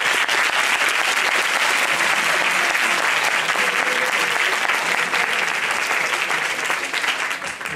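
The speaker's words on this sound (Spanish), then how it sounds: "creo que merecéis todos un gran aplauso" Sustained, dense applause from an audience at the final of a school philosophy olympiad on moral dilemmas, loud and steady throughout, tapering slightly at the end.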